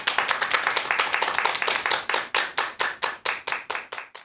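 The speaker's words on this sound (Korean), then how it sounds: "여러분 큰 박수 부탁드립니다." An audience applauds a family medicine doctor introduced at a Korean lecture show. Thick, brisk applause gradually thins into a slower run of distinct, evenly spaced claps that fade out.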